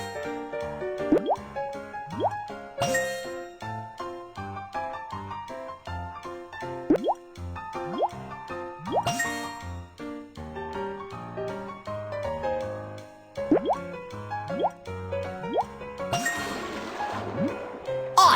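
Cartoonish plopping and dripping water effects from a kids' fire truck game as the hose connected to a fire hydrant fills with water, repeated in bursts over bright, tinkly game music.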